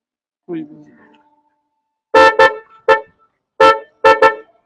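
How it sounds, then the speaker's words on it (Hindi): A car horn honks five times in short, loud blasts, two pairs and a single, after a brief murmur of voice at the start. "हम आपको हॉर्न चेक कराते हैं"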